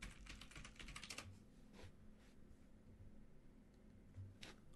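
Quiet, close typing on a computer keyboard, a quick run of key clicks followed by a few scattered taps over a faint background hiss.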